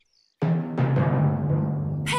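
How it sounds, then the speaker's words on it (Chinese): Cartoon thunder in a Peppa Pig episode: two sudden loud cracks roll into a long deep rumble that fades slowly, heard alone after a brief silence. "那是雷声"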